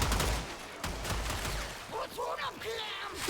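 Rapid bursts of enemy gunfire in the Warframe video game, loud and dense at the start, then broken shots mixed with in-game effects and a player talking over them.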